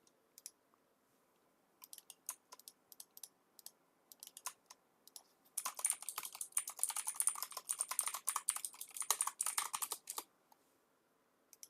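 Typing on a computer keyboard, with sparse individual key clicks at first and then a fast, dense run of clattering keystrokes, close and clear with no talk.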